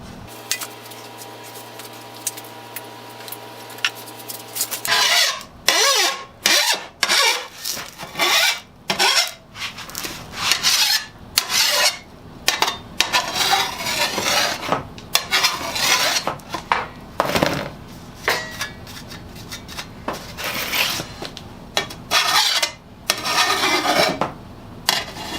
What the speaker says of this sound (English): I got a little burr on there. I'm gonna have to take that burr off.